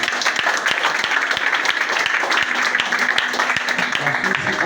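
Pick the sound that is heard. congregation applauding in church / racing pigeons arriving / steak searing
congregation applauding in church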